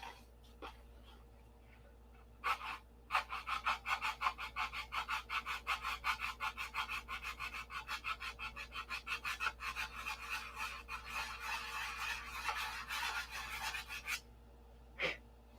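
Hand sanding of the nose glass on a P-47 model makes quiet, rhythmic rasping strokes, a rapid series of soft scrapes in short bursts with pauses.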